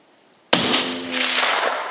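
A single sharp rifle shot from a Sig Cross in 6.5 Creedmoor firing Hornady ELD-VT ammunition, loud and close, followed by a long ringing decay with no talk.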